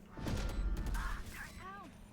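Mechanical clicks and clunks of a weapon being reloaded in a first-person shooter game, short and moderately loud, mixed with game noise and a brief rising electronic tone.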